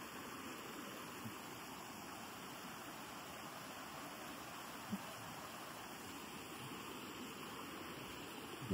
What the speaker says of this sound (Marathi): एवढा पाण्याचा ओघ आहे.